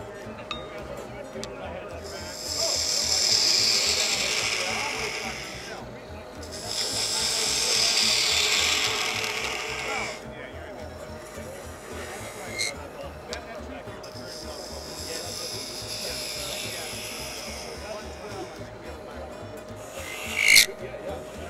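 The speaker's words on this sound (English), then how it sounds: "before we make the stem, we're going to sand that" Sandpaper held against a wooden lidded box spinning on a lathe makes several loud hissing rasps of a few seconds each, with quieter turning noise and a brief clink between them.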